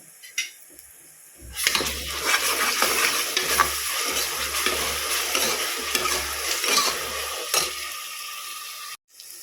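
Ginger garlic paste sautéing in a hot pan, with steady loud sizzling and repeated scraping stirs for several seconds, preceded by a brief quiet start and a sharp clink.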